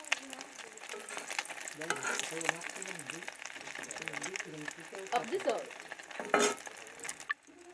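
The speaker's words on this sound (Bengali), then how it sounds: "আমি একে ডিমটা ভেজে নিব।" Oil sizzles and crackles steadily as an egg fries in a pan, with occasional spatula scrapes and a voice talking over it.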